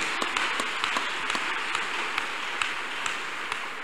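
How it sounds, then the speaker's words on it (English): Church congregation clapping hands together in worship, a dense, steady wash of many palms with occasional sharper claps standing out, continuous throughout with no speech over it. "Clap your hands unto God of the chosen."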